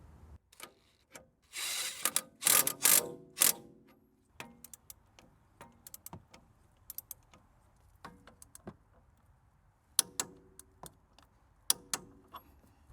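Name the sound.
ratchet tightening Mercedes ML350 strut bolt 180 degrees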